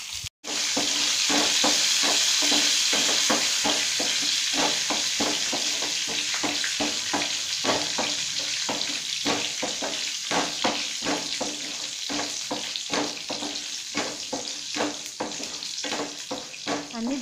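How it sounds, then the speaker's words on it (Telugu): Cumin and mustard seeds frying in hot oil for a Telugu ponnaganti greens fry, giving a loud, steady hiss broken by dense rapid crackles and pops from the seeds throughout, no voices. "త్వరగా వేగిన తరువాత జీలకర్ర, ఆవాలు వేసి వేయించుకోవాలి."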